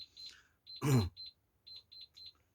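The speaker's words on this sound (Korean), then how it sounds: "지금 알람 소리가 들리고 있습니다" An electronic alarm sounds indoors during a lecture, giving a string of short, high-pitched beeps in an uneven rhythm, with a brief burst of voice partway through.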